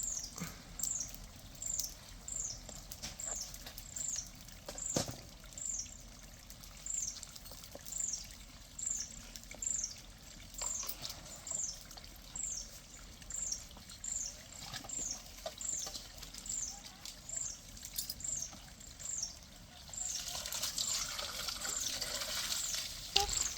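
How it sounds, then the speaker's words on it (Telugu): Spinach leaves are swished and washed in water, making rhythmic sloshing pulses with faint bird chirps in the background. "వాటర్లో వేసేసుకొని క్లీన్ చేసేస్తున్నాం"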